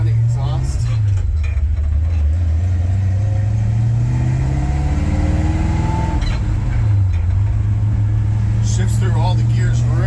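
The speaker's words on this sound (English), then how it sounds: "Nice sounding exhaust." A 1965 Chevy C10 pickup's engine rumbles low and steady through its exhaust, rising and falling slightly as it revs, with someone talking over it.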